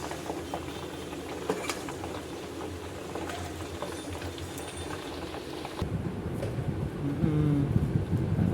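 Ghee bubbling and crackling as it simmers in a pan in a home kitchen, a steady soft patter of fizzing with a louder, fuller sizzle toward the end.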